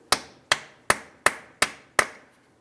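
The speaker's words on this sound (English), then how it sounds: "Let's continue on with a hammer and punch directly in the center of the axle." Six sharp metallic hammer blows land on a punch set in the center of a car axle in an even, steady rhythm, each ringing briefly before the next strike, close and loud.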